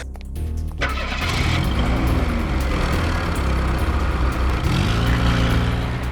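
A car engine cranks and starts, then settles into a loud, close, steady running rumble, with the pitch rising and falling as it is revved twice.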